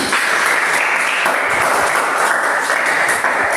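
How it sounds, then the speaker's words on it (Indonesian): A room full of people at a coding and artificial intelligence training session claps steadily, a loud dense burst of applause that carries on without pause. "tepuk tangan untuk kita semua"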